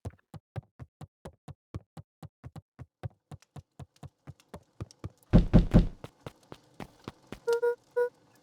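Knocking on the front door in the game Beacon Pines: a long run of evenly spaced, firm knocks, a louder cluster of heavier raps near the end, then a few brief tonal game chimes.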